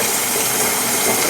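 Hot water from a kettle pours steadily over a spatula with oil on its handle, a loud continuous splashing rush lasting about a second and a half with no pauses.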